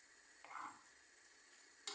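Quiet stirring of beetroot in a pan, a soft scraping swirl over a faint sizzle, with a light tap near the end.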